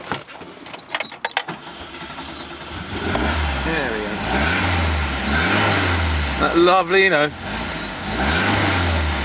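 An Alfa Romeo 1750 Spider's engine cranks and catches, then settles into a throaty idle with several rising revs, close up, while someone talks over it.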